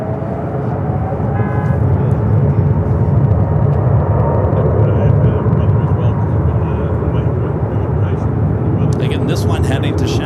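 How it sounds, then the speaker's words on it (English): An airliner takes off from runway 25 right on the south side of Los Angeles International Airport, its engines giving a loud, sustained roar that fills the scene while a voice talks over it. "Next takeoff on the south side on 25 at right."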